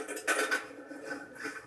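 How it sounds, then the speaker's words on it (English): A metal spoon clinks against a bowl as it falls into melted chocolate during truffle coating, giving two or three quick, faint clatters close by and then a quiet room. "I just dropped the spoon in it."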